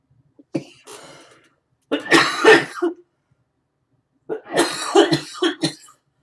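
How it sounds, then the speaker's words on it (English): Two bursts of harsh whooping cough, each a rapid cluster of coughs with a short pause between, close and fairly loud, with a small throat sound before them. "sometimes I have little coughing fits"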